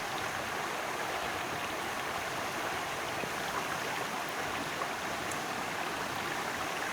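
River water rushes steadily after a week of heavy rain, a constant dense roar with no voices.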